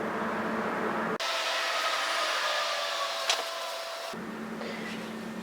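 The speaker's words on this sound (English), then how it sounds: "We're going to sew with a 4-thread overlock" A 4-thread overlock machine stitches the neck seam of a reversible hooded infinity scarf, a steady close whirring hum running for about three seconds between quieter stretches of room sound.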